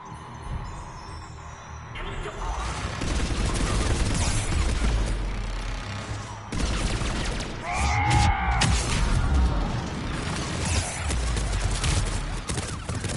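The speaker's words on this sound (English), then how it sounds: "They're shooting me." Enemy gunfire rattles at the player in a shooter video game: loud, dense, continuous bursts of shots and booms that fill the whole stretch, with a brief whining mechanical tone partway through.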